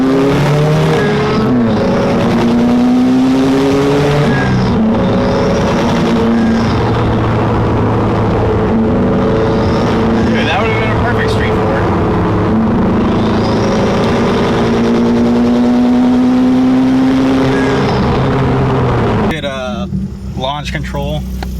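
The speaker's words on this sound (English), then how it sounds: "Just did a 1st through 3rd gear pull." Subaru WRX fitted with Killer B equal-length headers pulls hard from first through third gear, its loud engine note rising and dropping in pitch at each shift, close and continuous before fading near the end.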